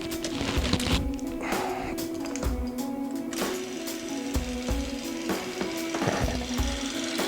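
A small hand crank on a camera's battery grip is turned steadily to charge it, giving a continuous whirring, ratcheting gear buzz close to the microphone, with a few brief voices and bumps over it.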